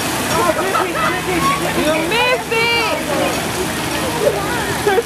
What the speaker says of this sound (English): Don't nobody like water falling in their face.